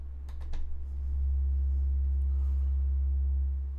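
A synthesizer's LFO sine wave output plays as a steady, loud, pure low hum, preceded by a few faint clicks.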